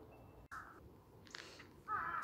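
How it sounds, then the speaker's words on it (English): A crow caws a few times near a forest path to a temple in Nagoya, Japan, short harsh calls, faint and somewhat distant, with no talking. "I love crows."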